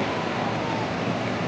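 Ocean waves at Padubidri beach, a steady broad rushing roar of surf with a little wind noise, continuous and fairly loud.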